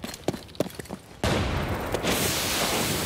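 A grenade thrown in Arena Breakout Infinite goes off in a sudden loud blast after a few small clicks and thuds, followed by a long, dense roar of debris and rumble that fades slowly.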